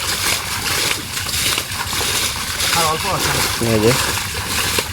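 Water is bailed out of a small village pond to catch fish, with repeated splashing and sloshing close by while voices talk over it.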